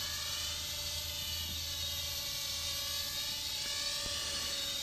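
A Hubsan X4 H107L quadcopter flies near full throttle with a steady, high, buzzing motor whine that holds level throughout, close and constant, with no voices.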